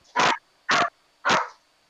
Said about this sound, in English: The Soviet mine dog has arrived.